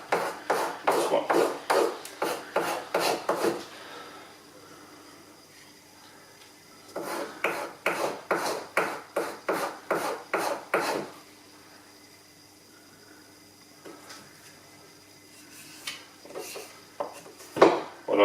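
A knife edge is polished on a Tormek 2000 water-stone sharpener with rapid rhythmic scraping strokes in three bursts, separated by quiet pauses, close and fairly loud.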